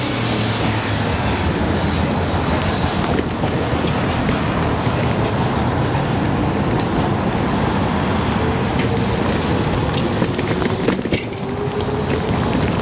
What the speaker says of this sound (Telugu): మన ట్రైన్ వెళ్ళిపోతుంది.